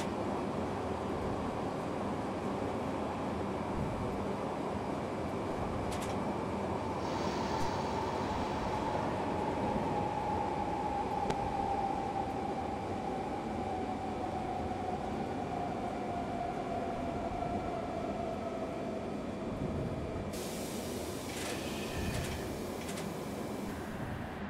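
A BR 420 S-Bahn electric train in Train Simulator rolls along with a steady rumble and wheel noise, a faint rising and falling motor whine, continuous and alone.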